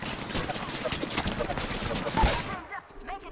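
Video game gunfire in a tactical shooter, a rapid sustained burst of automatic shots that cuts off abruptly near the end, leaving a quieter tail of faint clicks.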